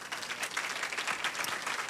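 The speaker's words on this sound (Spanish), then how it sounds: "Un aplauso," Audience applause at a business meeting, steady dense clapping from a crowd, fairly faint and even throughout the short stretch with no talk over it.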